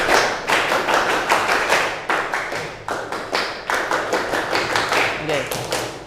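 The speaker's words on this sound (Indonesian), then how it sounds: "Kalau tepuk pramuka," A group does the Indonesian scout clap (tepuk pramuka) in a classroom, sharp close hand claps in a repeating rhythmic pattern of quick bursts with short pauses.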